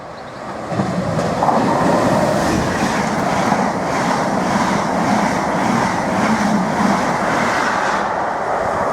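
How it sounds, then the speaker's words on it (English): A Norwich-bound Mark 3 passenger set, hauled by a Class 90, rushes past at high speed, giving a loud sustained roar of wheels with rhythmic clickety-clack over the rail joints for the whole pass. "the Norwich bound Mark 3 set charged its way through at high speed"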